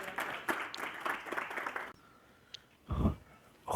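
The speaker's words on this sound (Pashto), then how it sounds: "ستاسو د درنو چکچکو په بدرګه" An audience at a weekly Pashto poetry mushaira claps briskly for about two seconds, then the clapping stops abruptly, leaving a quiet room broken by a few soft knocks and rustles.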